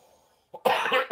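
One person coughs nearby, a short throat sound followed by a sharp loud burst and a second smaller cough, after near silence.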